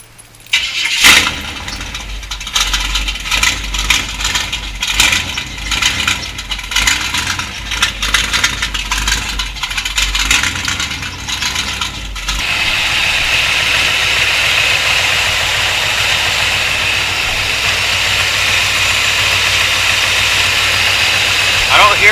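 Car engine cranks and fires after new valve covers were fitted, a rough rattly run-up settling into a steady, loud idle; a person speaks over the first half.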